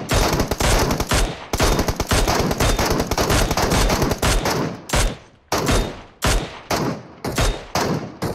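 Loud automatic gunfire in PUBG Mobile, a long unbroken burst of rapid shots followed by several shorter separate bursts with brief gaps, close and dominant.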